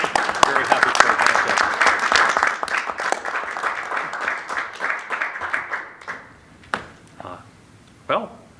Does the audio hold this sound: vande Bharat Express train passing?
no